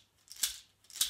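Two soft, crisp egg shaker swishes, shaken from the wrist, evenly spaced about half a second apart, heard close and alone.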